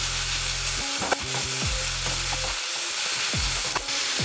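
Halved mushrooms and onions frying in a pan, a steady loud sizzle with a spatula scraping and stirring several times throughout.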